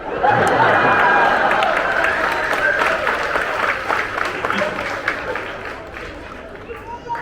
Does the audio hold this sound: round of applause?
yes